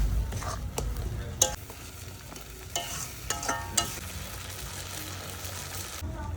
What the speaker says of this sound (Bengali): অল্প অল্প আঁচে শুটকি মাছটাকে ভালো করে রান্না করতে হবে